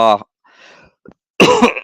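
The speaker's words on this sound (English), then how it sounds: "I've had this really kind of irritating tickly cough." A short voiced sound, then a few dry, tickly coughs and throat clears, close and fairly loud, separated by brief pauses.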